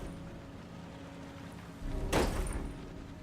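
A door is bashed in the video game Heavy Rain: one heavy, sharp impact with a crashing burst near the end, over a low steady game ambience.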